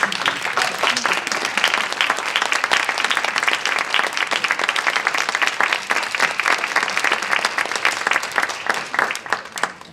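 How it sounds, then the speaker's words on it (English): An audience at a university lecture on art and hope gives a sustained round of applause, many hands clapping densely and evenly throughout at a steady level, with faint voices mixed in. "I'm going to give you a round of applause"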